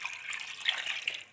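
Water poured from a vessel into a simple cooking pan for kebab masala, a soft, fairly faint splashing trickle lasting about a second with small bright splashes, no talking.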